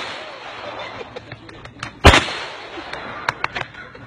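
A single loud gunshot cracks out at a shooting range during shooting practice, followed by several sharper distant shots spaced irregularly over a faint background hum.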